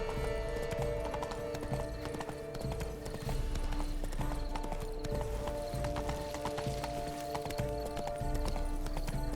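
A horse trotting in Witcher 3: Blood and Wine, a steady, continuous clip-clop of hooves with occasional neighs, close and loud over a low ambient background.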